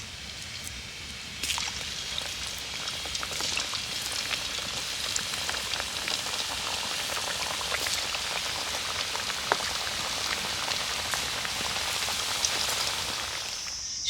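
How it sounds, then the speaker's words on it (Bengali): Atta (wheat flour) biscuits deep-fry in hot oil with a dense, steady crackling sizzle like light rain, holding at an even level throughout with scattered sharper pops. "বাকি বিস্কুটগুলো একই রকমভাবে ভেজে নেব।"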